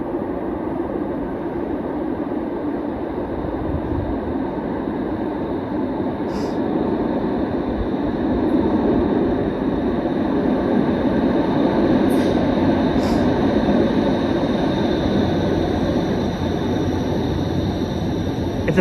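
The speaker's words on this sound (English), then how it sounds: "I can hear an eastbound train arriving" An eastbound subway train arriving at a Toronto station, a loud continuous rumble and rushing roar with faint high squeals, and no talking.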